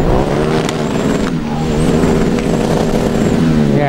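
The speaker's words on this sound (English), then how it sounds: "Driver now trying to make sure he keeps it out of the misfire by the sound of it." Erlangen Formula Student race car running an endurance lap while stuck in gear, its engine note steady and loud with an uneven, stuttering misfire running through it from start to finish.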